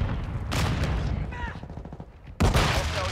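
Gunfire in Call of Duty: Modern Warfare II, bursts of rapid shots and booming blasts, loud and close, cut by a brief quieter gap before a fresh heavy volley.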